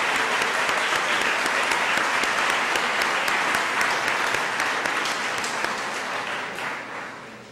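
A college audience applauds the members of a College Day Committee at a celebration, dense sustained clapping that swells and then gradually fades near the end.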